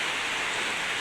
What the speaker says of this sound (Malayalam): ഇത് മഴ കേട്ടോ